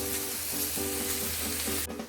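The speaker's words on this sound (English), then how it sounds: "I'm going to let these vegetables cook down" Vegetables including carrot cook down in a pan for jambalaya stuffed peppers, a loud, steady close frying hiss with faint rhythmic stirring and no voices.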